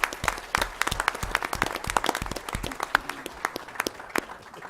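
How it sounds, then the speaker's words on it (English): A school board meeting audience applauds visiting teachers with a few seconds of brisk, dense clapping from many hands. The sound is moderately close and fades slightly toward the end. "Give them a nice round of applause."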